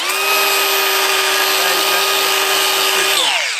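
Power tool spinning a Klingspor abrasive pad against the face of a Transit van's exhaust manifold, a steady high-pitched whine with scraping grit, close and loud, winding down at the end.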